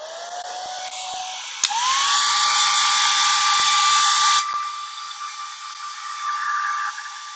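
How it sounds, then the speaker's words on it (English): A hair blow dryer drying craft paint at a crafting table hums with a rising whine as it spins up, steady airy rush close by, then drops to a lower setting before trailing off. "I'm gonna get the blow dryer real quick"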